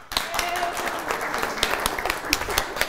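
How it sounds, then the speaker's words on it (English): A studio audience gives a short burst of applause for contestant A, many hands clapping at moderate volume for about three seconds. "By your applause, let's hear it for contestant A."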